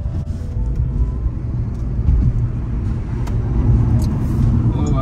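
A Tata Punch EV electric car accelerates with a steady, close low rumble of road and tyre noise that builds slightly toward the end, and faint voices can be heard inside the cabin.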